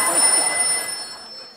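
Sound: telephone ringing

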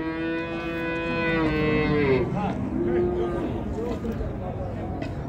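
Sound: calves mooing at a livestock market

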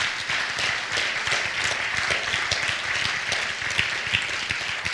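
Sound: congregation clapping hands

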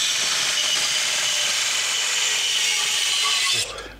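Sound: cutting square pieces out of metal plate

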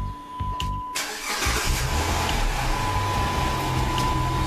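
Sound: 2009 Dodge Charger engine starting by remote start

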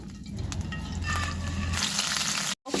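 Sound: fish frying in mustard oil in a pan

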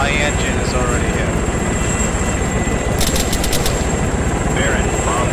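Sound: helicopter engine in a video game

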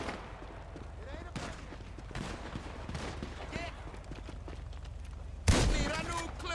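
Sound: gunfire in the video game Grand Theft Auto 5

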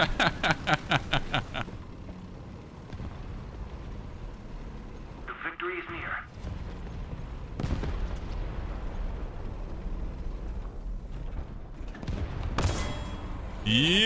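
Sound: gunfire in a video game

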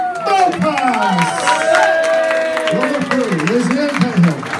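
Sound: boxing crowd applauding and cheering

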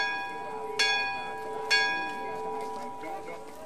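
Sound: bell tolled by pilgrims

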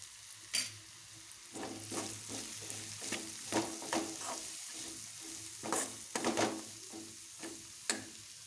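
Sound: kasarakaya (spine gourd) fry stirred and frying in pan

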